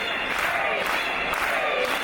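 Crowd at an FCF wrestling show in Helsinki, Finland, cheering and clapping steadily in a hall under a commentator's voice.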